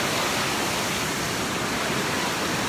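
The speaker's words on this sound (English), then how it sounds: "Waterfall." A waterfall roars steadily and close, a dense unbroken rush of falling water with no voices.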